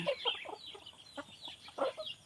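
Chickens, hens with their chicks, cluck in a series of short, fairly close calls with uneven gaps; no one speaks.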